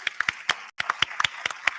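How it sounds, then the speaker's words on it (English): A few people clap unevenly at a meet-and-greet in Boston, sparse distinct claps close by, with a brief dropout partway through. "can we just get an applause for that at least?"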